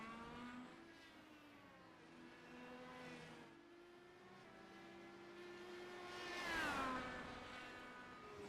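A CART race car runs down the straightaway at Chicago at about 154 mph, a steady engine whine with harmonic tones that sweep as it passes close by near the end, with no talk.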